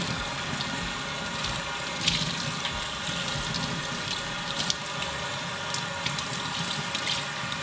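Water runs from a tap into a sink while an 8-inch wavy mini hairpiece is rinsed, a steady close splashing flow with small bursts of spatter and no talk.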